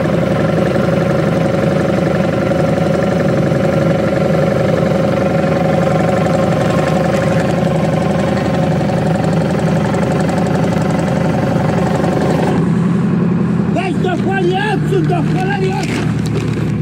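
A silage block cutter works on a farm, slicing blocks out of a silage clamp. Its engine drones steadily and loudly throughout, and near the end people talk over the machine.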